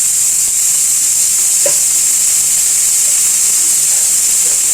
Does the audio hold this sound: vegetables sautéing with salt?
yes